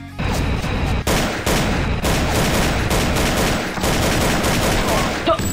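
Continuous rapid gunfire from the 2D multiplayer shooter game Soldat, loud and dense with overlapping shots and brief gaps, heard on its own without talk.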